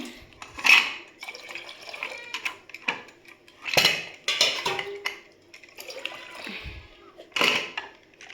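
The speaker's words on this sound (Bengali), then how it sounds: "আমি আরেকটু জল দিই" Water splashes and trickles in a kitchen sink among clattering pots and dishes, in several short bursts spread across the stretch, with faint voices in the background.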